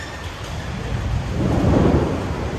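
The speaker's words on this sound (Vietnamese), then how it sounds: "Trời mưa to quá anh em ạ." Heavy rain pours down in a dense, loud wash of hiss over a low, rolling rumble, swelling slightly midway and holding steady throughout.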